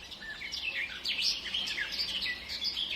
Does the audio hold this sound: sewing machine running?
no